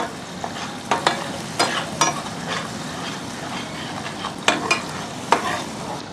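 Ginger and garlic being stirred into chicken pickle in a pan, with a soft background sizzle under repeated sharp spoon scrapes and knocks at an uneven rhythm, fairly close.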